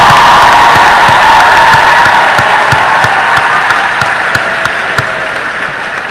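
A large crowd at a graduation ceremony claps loudly and steadily, with scattered cheers and whoops mixed into the continuous applause.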